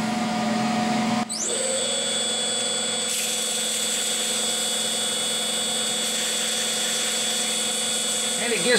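Novakon Torus Pro CNC mill starting up to cut a hub spacer: a sudden loud spindle whine ramps up and holds as a steady, high-pitched tonal drone over continuous machine noise to the end.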